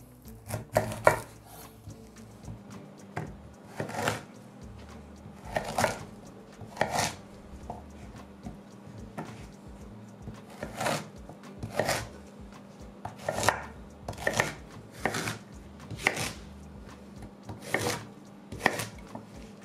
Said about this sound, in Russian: И крупно порежу айву